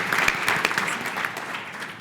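An audience at a local leaders panel on the future of work in San Antonio applauds with crisp, distinct claps that start strong and then thin out gradually.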